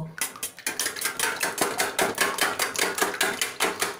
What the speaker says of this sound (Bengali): চারটে ডিম আমি ফাটিয়ে নিয়ে নিয়েছি এবার এটাকে একটু আগে আমি বিট করে নেব